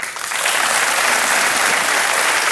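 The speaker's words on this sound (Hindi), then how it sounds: "तालियां बजती रहे रुक्मिणी जी के लिए" Studio audience on the Kaun Banega Crorepati game show breaks into loud, sustained applause, rising in the first half second and then holding as a thick, even wash of clapping with no voices over it.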